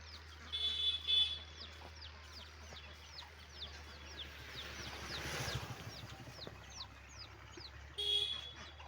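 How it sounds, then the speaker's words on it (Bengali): Busy duck chatter with repeated short calls and quacks over a steady low hum, a few louder bursts standing out, no talking. "দুষ্ট হাঁস কথা শোনে না"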